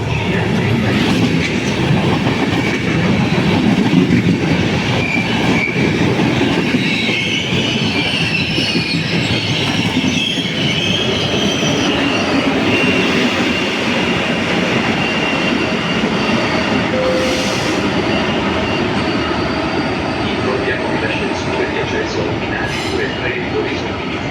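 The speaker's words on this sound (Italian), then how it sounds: "Il treno regionale 17190 di Trenitalia proveniente da Venezia Santa" A Trenitalia regional train from Venezia Santa Lucia rumbles and clatters steadily through Padova station, with wheel squeals and an Italian station announcement heard over the noise.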